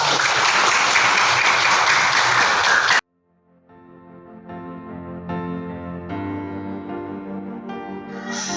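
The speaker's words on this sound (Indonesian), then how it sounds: "tepuk tangan dulu buat kelas 8A" A school class of eighth graders claps together for about three seconds; the applause cuts off abruptly and music fades in afterward.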